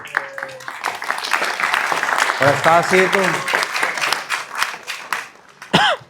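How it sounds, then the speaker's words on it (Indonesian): A classroom of students claps together in a dense burst of applause, while a speaker talks over and around the clapping and voices chatter at the end. "tepuk tangan buat kelas 1"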